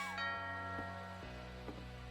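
A doorbell rings in the game What Remains of Edith Finch, with soft chime tones that ring out and repeat faintly a few times at low volume, alone with no voices.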